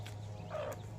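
A hen gives a short, low clucking call close by, a single brief vocalization against quiet outdoor background noise.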